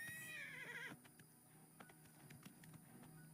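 A horse named Shadowmere in the video game Oblivion Remastered gives a short, bright whinny lasting about a second, followed by quieter scattered clicks and taps.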